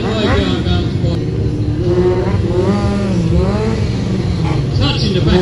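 A stunt bike's engine revs and surges at a custom classic motorcycle show, rising and falling in pitch, loud and near, under an announcer's voice.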